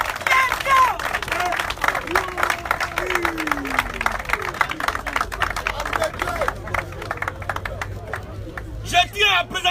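A church congregation breaks into loud applause and cheering, dense clapping and voices filling the space for several seconds, fading slightly near the end.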